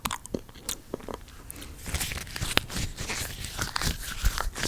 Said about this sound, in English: So, you take the first bite of your appetizer salad.